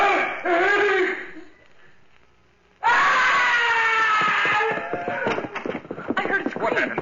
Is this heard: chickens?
no